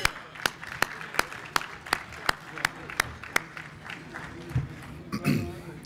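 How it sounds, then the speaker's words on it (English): At a conference luncheon, sharp claps ring out at a steady, even beat like one or a few people applauding, then fade into murmuring and shuffling room noise. "Let's give them a round of applause."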